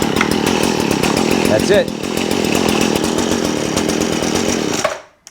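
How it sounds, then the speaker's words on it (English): A Stihl FS 70R string trimmer, rope-started shortly after its last run, roars loudly and steadily up close with a rapid buzzing engine pulse, dips briefly, then cuts off near the end; someone speaks briefly over it. "if I want to turn the unit back on and it only ran just maybe a minute ago, you should be able to just pull the rope and go"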